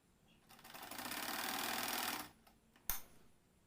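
A sewing machine runs in one close, steady burst of rapid stitching on a double katori blouse, followed by a short click.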